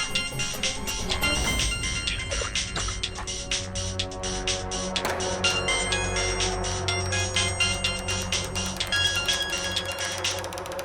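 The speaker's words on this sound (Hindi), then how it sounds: "किसी का फोन आ रहा है बार बार" A phone rings again and again with bright, rapid tones amid a busy, cluttered background, fairly loud.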